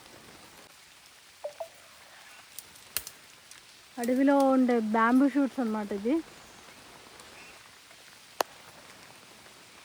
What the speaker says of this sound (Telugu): చాలా వర్షం వస్తుంది బాగా.